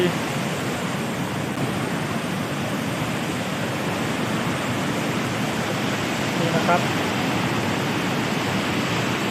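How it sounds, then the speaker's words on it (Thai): The Wanggangsu waterfall roars nearby as a dense, unbroken wash of falling water, steady and loud throughout, with someone speaking briefly over it. "เราเริ่มเข้ามาใกล้น้ำตกขึ้นทุกทีนะครับ"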